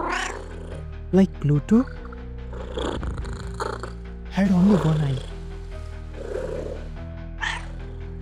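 A cat purrs and gives short meows within a dramatized Edgar Allan Poe horror story, the soft purring and brief cries sitting under a narrator's voice and background music.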